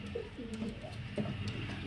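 High-flyer pigeons coo in soft, low, rounded calls, several overlapping phrases close by against a quiet background hum.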